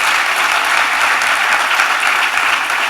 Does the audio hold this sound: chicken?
no